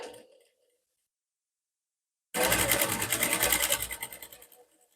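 A sewing machine stitches through a double layer of thick blouse yoke fabric in one loud, continuous run of rapid needle strokes lasting about two seconds, preceded by a short quiet pause and a faint voice at the very start.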